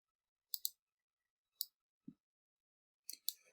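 A few sharp, quiet mouse clicks in Excel 2016, single and double clicks separated by silence in a still room.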